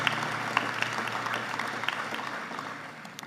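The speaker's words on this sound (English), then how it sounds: "Give them a round of applause" Students at a high school senior awards ceremony receive applause from the audience, a moderate, even wash of clapping with a few sharper individual claps standing out, fading gradually toward the end.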